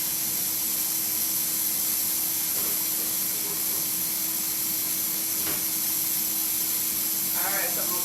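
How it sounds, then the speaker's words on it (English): Tap water runs steadily into a sink as hands are washed in a home kitchen, a constant close hiss with a few soft splashes and a faint voice near the end. "I'm going to wash my hands so I can cut up some onion"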